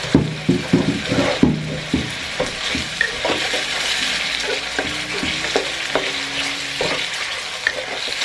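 Pad Thai noodles hiss in a hot pan while a utensil scrapes and stirs them around in steady rhythmic strokes, close and continuous, with no voices.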